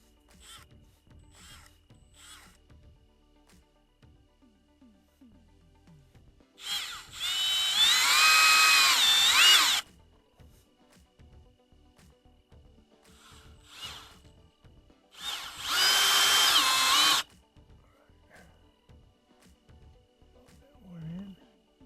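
Two bursts of a power drill driving screws into a house exterior trim piece, each roughly three seconds, close and loud, separated by quiet handling noise and brief talk.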